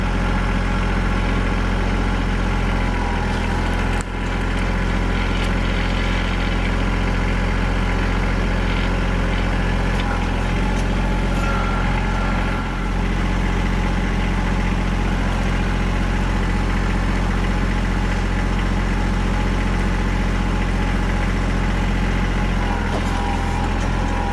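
A tractor-powered 22-28 ton log splitter runs through a third function valve, its engine holding a steady, loud low idle drone for the whole stretch with faint knocks and shifts of load now and then.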